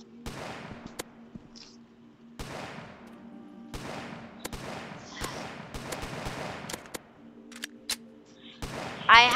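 Roblox gunfire crackles in repeated sharp bursts, some shots spaced out and others in quick runs, loud and close, while players talk over the action.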